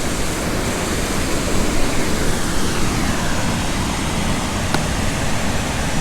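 The River Tees plunges over the High Force waterfall in a loud, continuous roar heard up close, a dense broadband rush that stays steady with no talk.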